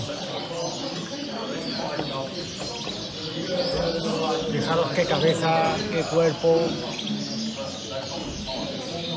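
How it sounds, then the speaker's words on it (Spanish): Outdoor birds at a hunting ground, soft cooing and chirping calls scattered through a steady background hum, heard under someone speaking throughout. "estos pájaros se pueden grabar muy bien"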